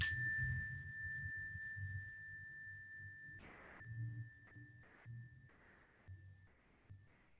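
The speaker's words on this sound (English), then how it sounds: "focusing on this bell. Listen as it begins and as it dissipates." A meditation bell rings with a clear sustained tone that slowly fades, heard alone over a quiet low background hum during a yoga session.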